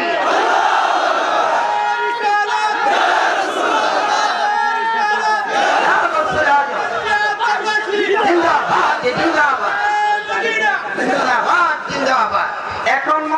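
Large crowd at a religious Urs gathering in Bangladesh shouting in unison in response to a takbir call, a loud, dense mass of voices sustained throughout at close range.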